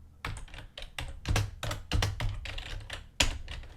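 Dense, uneven clatter of keys on a computer keyboard while entering code, close and fairly loud, with bursts of quick strokes and a few harder taps, no talking.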